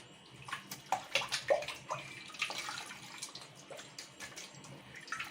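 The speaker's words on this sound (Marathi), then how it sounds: "हे आपल्याला गार पाण्यामध्ये बुडवून घ्यायचं आहे पुन्हा।" Fresh chhena for ras malai being dipped and sloshed in cold water, with close, uneven splashes and gurgles that rise and fall in short bursts.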